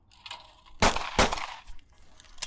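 Two sharp, loud shotgun blasts in quick succession at a true pair of clay targets on a shooting range, about half a second apart, followed by fainter clacks and outdoor ambience.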